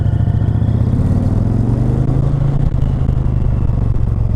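A 2020 Indian Challenger motorcycle engine rumbles loud and close, a steady deep idle with a slight rise in pitch midway and a continuous mechanical clatter.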